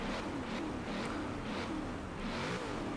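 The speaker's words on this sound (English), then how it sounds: "the car sounds pretty great. Sounds like a V8." A Nissan 240SX Formula Drift car in the Forza racing game, its V8-like engine revving hard and continuously in rising and falling surges, loud and close throughout.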